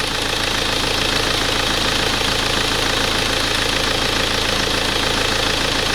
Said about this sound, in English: Good engine performance.